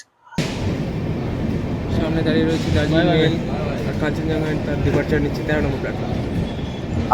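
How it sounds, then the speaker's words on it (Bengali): The Kanchenjunga Express with LHB coaches pulls out of platform 13 at Sealdah station, bound for Agartala, producing a steady loud rolling rumble and rattle throughout while a voice talks over it. "আর আমাদের ট্রেন এই মুহূর্তে শিয়ালদা রেল স্টেশন তেরো নম্বর প্ল্যাটফর্ম থেকে বেরিয়ে যাচ্ছে আগরতলার পথে"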